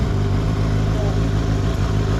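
A KOVE 450R four-cylinder street motorcycle engine runs steadily at idle nearby, a smooth even hum with no clear revving.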